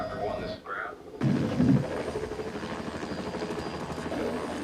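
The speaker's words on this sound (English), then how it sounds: "I don't like helicopters, never have." A helicopter in the 1978 film Superman, a steady rotor chop that swells after a short drop, carrying on under background movie sound.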